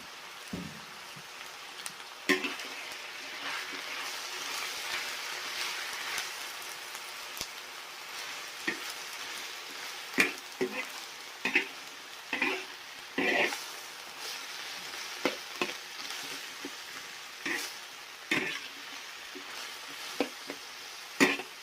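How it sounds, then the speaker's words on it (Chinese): Cabbage and pork sizzle in a wok through a steady crackling hiss, broken by repeated scraping stirs and clanks of the spatula, with rain falling outside. "这个白菜啊，随便炒一下就可以了。"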